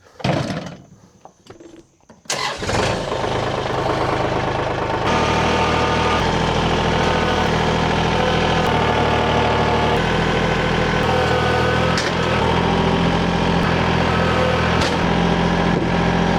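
A door clunks open, then a tractor engine idles loudly and steadily at a sawmill, a constant low rumble close by with slight shifts in tone.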